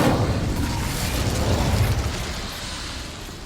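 Incendio fire spell in Hogwarts Legacy, a dense loud roaring burst of flame that sustains for a few seconds and then slowly tapers off. Close and alone, with no talking.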